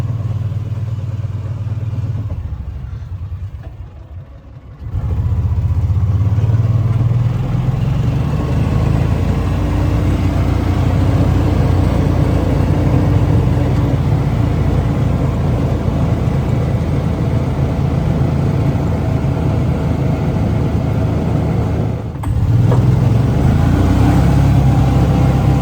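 Kawasaki Mule 4010 utility vehicle engine with a misfire, idling steadily up close with a loud, rough low rumble that cuts out briefly near the start and dips again toward the end.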